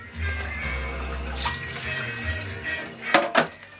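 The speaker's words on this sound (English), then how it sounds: "I like to wash my hands." Water runs from a tap while hands are washed during a bacon-smoking session at a Weber grill, steady and fairly quiet, with a few brief splashes near the end.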